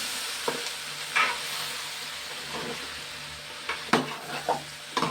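Turmeric and spices are stirred into food frying in a pan, with a low steady sizzle and occasional scraping strokes of a spoon, louder near the end.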